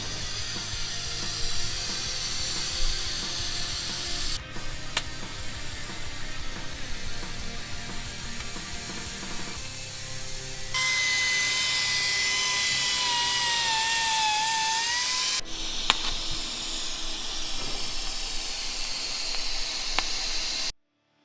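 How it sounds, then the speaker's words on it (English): Welding clevis brackets onto a Ford ZB Fairlane chassis for the shock mounts, a steady crackling hiss that runs loud and continuous, with a brighter, harsher stretch in the middle and no talking. "weld those other clevises in"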